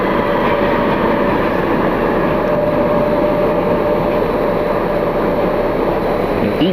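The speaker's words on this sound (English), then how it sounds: "American Eagle is also taxiing out." An American Eagle regional jet taxis at a winter airport, a loud, steady turbine whine and roar holding evenly throughout with no talking.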